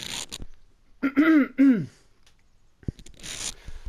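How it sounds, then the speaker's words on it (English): A person clears their throat twice in rough, rasping bursts, with a sniff and faint shuffling before and after. "Had to clear my throat."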